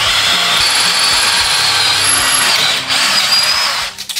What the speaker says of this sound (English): I'm gonna drill the bottom out and then we'll step up a bit size